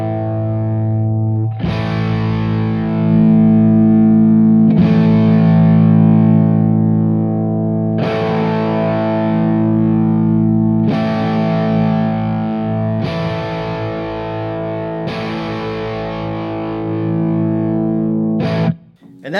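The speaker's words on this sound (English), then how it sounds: "let me just sort of sweep through some frequencies. I'll start with the lows, and I'll run the gain up" Heavily boosted parametric EQ sweeping through the low frequencies on a distorted electric guitar, which strikes several loud sustained chords in a steady pattern, each ringing out with a shifting, resonant low-end tone.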